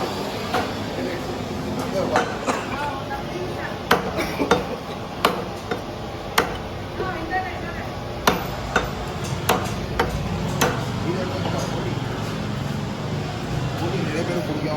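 Meat being chopped for orders, sharp regular cleaver strikes on a block roughly every half second to second over steady background noise, with people talking nearby.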